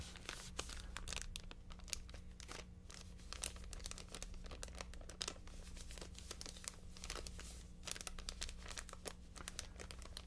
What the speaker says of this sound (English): I will be making crinkling noises with for a short period of time here